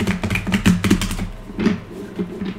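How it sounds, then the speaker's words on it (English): A deck of tarot cards is shuffled by hand, giving a rapid series of close, crisp riffling taps in a couple of bursts. "I'm going to shuffle the cards."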